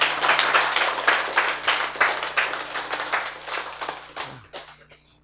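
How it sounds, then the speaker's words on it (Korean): A church congregation breaks into rhythmic applause, a lively burst of clapping with distinct hand claps that gradually fades and thins out into a few scattered claps before stopping. "박수"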